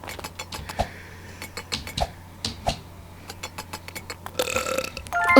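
A loud, close belch closes out a short run of quieter clicks and small throaty bursts, with no talking over it.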